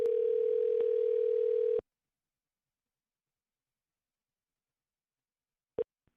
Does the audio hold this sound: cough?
no